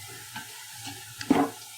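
Onions browning in a pan for chicken korma, a quiet background sizzle with soft stirring scrapes and one sharper clink near the end, close but faint, no speech.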